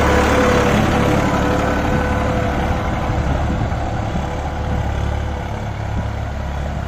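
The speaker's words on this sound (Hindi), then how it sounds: "बहुत बढ़िया चल रहा है ट्रैक्टर।" A New Holland 3230 diesel tractor on 13-inch tyres runs in a field, a loud steady low engine drone with constant rumble, heard alone at close range.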